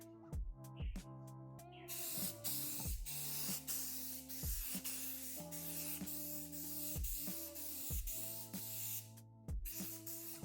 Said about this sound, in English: I'm going to spray some stone gray.